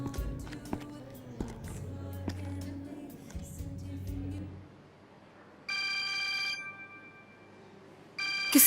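An electronic phone ring sounds in two bursts, steady tonal trills after a stretch of shuffling and movement noise, fairly close and clear.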